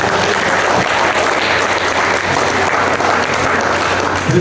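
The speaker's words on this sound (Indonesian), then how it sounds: "Aplaus untuk semua." An audience at a book discussion event applauds, dense continuous clapping from many hands that stays loud and steady throughout.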